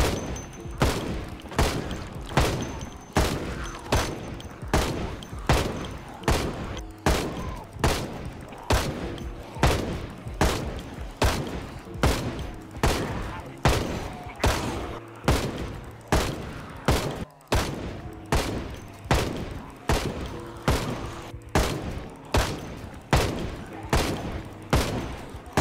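Full-auto gunfire in the zombie survival game Project Zomboid: sharp shots crack in a steady, evenly spaced stream for about 25 seconds, loud and without pause.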